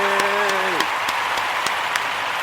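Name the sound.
audience applause for Kujichagulia-born listeners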